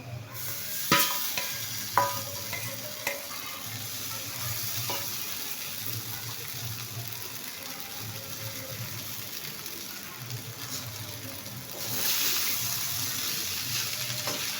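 Sabudana fries in a pan and gets stirred, producing a steady low sizzle with sharp spoon clinks near the start. Softer scraping follows, and a watery rush swells toward the end. Nobody talks.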